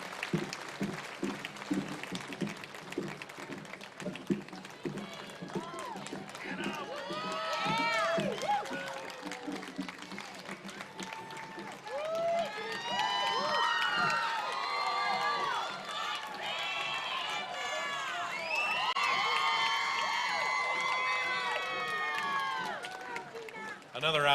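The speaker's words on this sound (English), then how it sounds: "Give them another round of applause as they parade through." Audience applause and cheering for the 13 Tomato Festival Queen contestants parading at the 2017 Henry County pageant: steady crowd clapping with bursts of whoops and whistles that swell toward the end.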